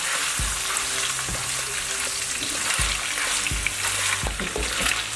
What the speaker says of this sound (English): you need to make sure that your beef is fried well